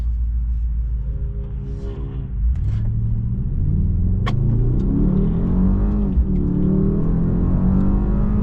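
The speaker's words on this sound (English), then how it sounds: "AMG 4-liter V8 bi-turbo engine producing over 600 horsepower" A 2024 Mercedes-AMG GLS 63 SUV with a 4-liter V8 bi-turbo engine drives along, heard from inside the cabin as a steady deep rumble that swells as it accelerates and revs, with no one talking.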